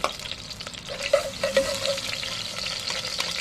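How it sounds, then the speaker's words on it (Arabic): Garlic is added to hot oil in a pan for a sauce, making a continuous moderate sizzle with light stirring scrapes close by. "هنزل بقى عشان نزلت بالزيت، هنزل عليهم بالثوم"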